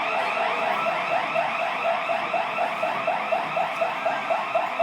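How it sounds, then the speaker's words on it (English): At a Meijer store, a security burglar alarm keeps sounding, a steady, fairly loud electronic warble cycling quickly and evenly without pause, heard alone with no talking. "Security alarm went off."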